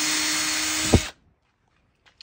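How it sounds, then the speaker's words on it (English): A power drill runs steadily as it bores pilot holes in wood for a DIY ladder hoist, then stops abruptly, leaving near silence with a couple of faint light knocks. "Drill out some pilot holes here for the"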